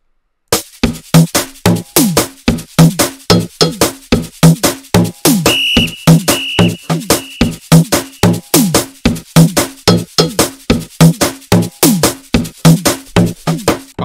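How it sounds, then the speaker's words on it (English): An Arab-style drill beat with punchy, bouncy drum hits in a steady loop, sliding bass notes and a short high whistle melody over the middle, loud and close. "the drums, the main bits should sound like this with the whistle."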